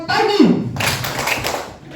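An audience claps together in a call-and-response clapping game, a voice calling out first and then a burst of rapid group claps following briefly, moderately close in a room.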